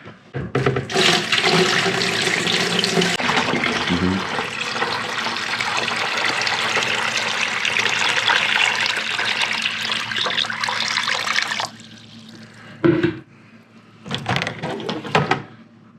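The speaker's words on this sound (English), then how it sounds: "I'm gonna put some water in it." Water gushes steadily into a sous vide container for about twelve seconds, then stops, followed by a few short splashes and clunks.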